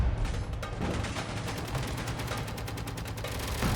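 Gatling turrets in the Space Engineers video game fire at a decoy, a dense, loud, continuous stream of rapid mechanical gunfire bursts with no talking.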